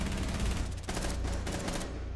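Rapid bursts of gunfire in a Rainbow Six Siege team deathmatch on the Chalet map, dense overlapping shots sustained loudly throughout with a brief lull midway, no talk.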